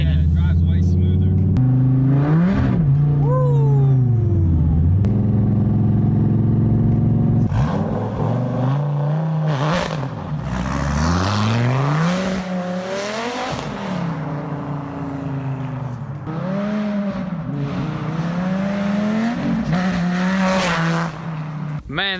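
A 2014 Dodge Viper TA engine revs hard and roars past in a loud flyby, rising and falling in pitch with repeated surges, while people talk over it.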